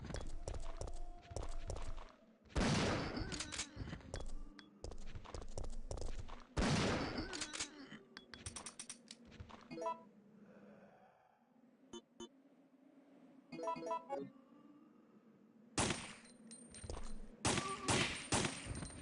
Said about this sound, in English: I'm going to use a shotgun